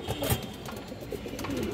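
Black Mousaldam pigeons of an old bloodline give soft, low coos close by, a steady murmuring of several birds with faint chirps over a dim background.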